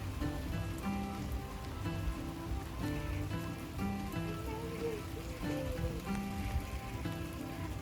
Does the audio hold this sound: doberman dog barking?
no